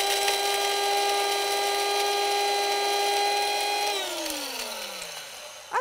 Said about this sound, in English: And then you just whiz that up until it's a powder.